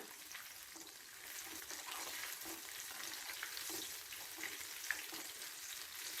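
Battered ripe banana finger fries frying in oil give a steady, soft crackling sizzle while being turned over, with faint scrapes and small pops, quiet and close, no voices.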